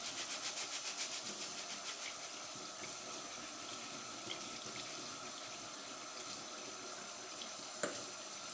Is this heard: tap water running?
yes